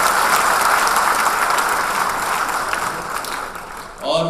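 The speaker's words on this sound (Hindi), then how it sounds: "जोरदार तालियों का स्वागत किया जाए" Loud, dense audience applause welcoming a female singer onto a concert stage, steady clapping throughout that thins slightly toward the end, with a voice breaking in at the close.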